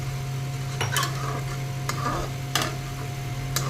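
Spices for a masala duck curry stirred in a pan, a few sharp spoon scrapes and knocks over a low sizzle and a steady background hum, close and unhurried.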